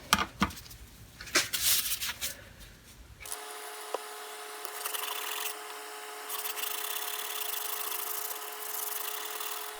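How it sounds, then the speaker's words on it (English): Metal Malco No. 18 dividers are wet sanded with fine-grit sandpaper, a steady soft rasping rub that follows a few brief, irregular scuffs and knocks at the start. "And more wet sanding with finer grits."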